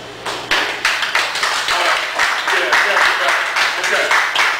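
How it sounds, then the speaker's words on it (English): Audience at a poetry open mic gives a round of applause, loud close-up claps and taps that start abruptly and carry on densely for several seconds, with a few voices mixed in. "Can you shout a round of applause?"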